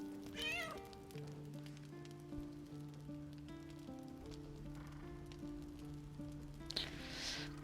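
A cat meows in the game Baldur's Gate 3, one short rising meow near the start heard over a soft droning music bed, with a faint rain-like hiss swelling near the end.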